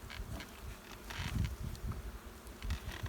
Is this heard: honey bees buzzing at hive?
yes